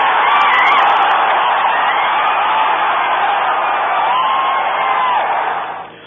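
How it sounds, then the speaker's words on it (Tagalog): A dense, continuous crowd roar fills the air as spectators cheer Manny Pacquiao's fight and his crowning as WBC Super Featherweight Champion. The roar holds loud and steady for several seconds, then fades at the end. "Dumagundong din ang hiyawan dito, lalo na nang si Pacman ang tanghaling bagong WBC Super Featherweight Champion."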